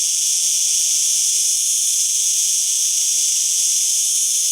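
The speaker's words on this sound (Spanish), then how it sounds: "Os voy a enseñar unas imágenes de una cigarra cantando" A cicada sings from park and garden trees, producing a loud, unbroken high-pitched buzzing hiss that holds steady from start to finish with no pauses or voices.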